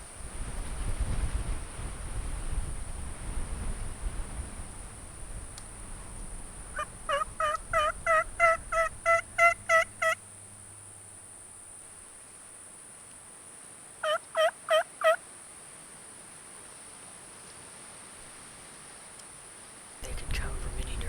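Wild turkey gobbling in spring woods, two bursts of rapid, rattling gobbles several seconds apart, fairly close and loud against a quiet forest background with a steady insect hum.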